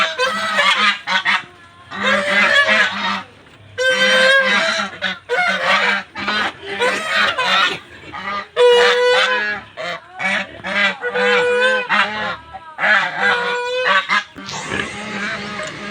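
Geese honk repeatedly in loud, overlapping bursts on a farm where turkeys and ducks are also kept, the calls coming in clustered rhythmic volleys close by with brief gaps between them.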